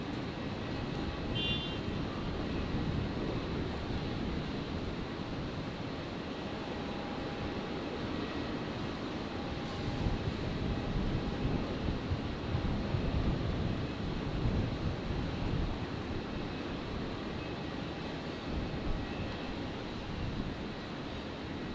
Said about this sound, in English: Plenty of aircraft under tow right now.